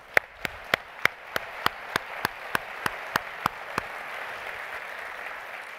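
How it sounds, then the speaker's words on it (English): An audience claps for families at a TED-style talk, with sharp, evenly spaced claps standing out over a soft wash of crowd applause that keeps going after the claps stop. "So can we clap it up for our families?"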